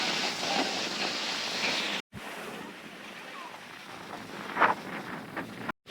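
Strong gusty wind buffets the microphone on a boat or beach at El Nido, Palawan, a steady broadband roar with surf-like rushes, cut by brief silent gaps and faint voices underneath.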